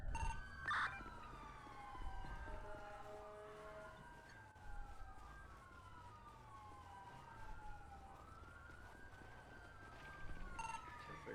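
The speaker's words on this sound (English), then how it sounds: "I hear a car. I hear sirens." Police sirens wail and yelp in rising and falling sweeps, moderately distant, with a low rumble of traffic beneath and brief bursts of noise.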